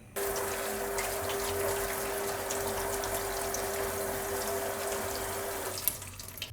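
Cooked chickpeas rinsed under a running kitchen tap, a steady close rush of water that starts abruptly and stops near the end with a small clatter.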